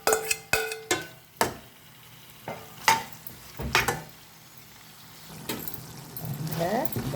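A metal spoon scrapes and taps against a pan as chicken is stirred into masala for butter chicken, with sharp clinks early on, then a soft sizzle rising toward the end.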